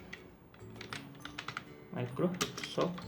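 Someone types on a computer keyboard while entering a label address in MS Word 2007, with quick, close key clicks in short bursts and someone speaking over them.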